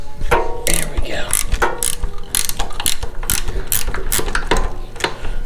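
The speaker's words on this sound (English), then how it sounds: "I'm glad they came up with ratchet wrenches" A ratchet wrench clicks rapidly in repeated bursts while loosening nuts on a 417A tractor, loud and close, with metallic clatter between strokes and no speech.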